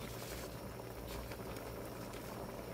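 A thick pot of laing, a coconut milk stew, bubbles and churns at a steady low simmer, a continuous rumbling burble close by with no voices.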